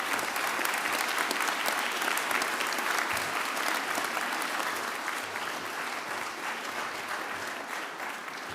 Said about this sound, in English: a big round of applause for our graduates today